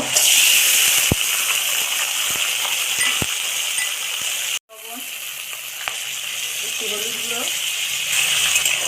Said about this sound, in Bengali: কড়ার তেল গরম হয়ে গেছে তো কাঁকড়াগুলো দিয়ে দেব